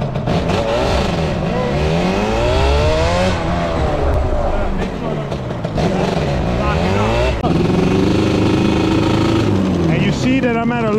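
A Yamaha Banshee ATV engine revs loudly and continuously while riding, its pitch rising and falling through repeated throttle changes close to the listener.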